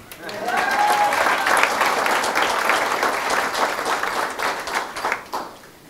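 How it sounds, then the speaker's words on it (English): Audience applause at an award ceremony for a family being honoured, a steady wash of clapping hands from a room full of people that lasts several seconds before trailing off, with faint voices mixed in. "A little applause for them."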